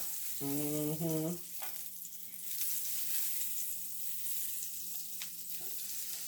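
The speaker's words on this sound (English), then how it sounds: "So I'm going to add butter" Butter sizzles in a cast iron frying pan over medium heat, a steady soft crackle following a brief tonal sound at the start and continuing quietly throughout.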